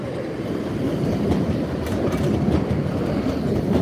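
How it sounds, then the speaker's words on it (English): A Nottingham Express Transit tram rolls into a stop with a steady low rumble and faint wheel noise, close and continuous, with no voices. "now approaching is the delayed 1227 Nottingham Express Transit Service to Queen's Walk"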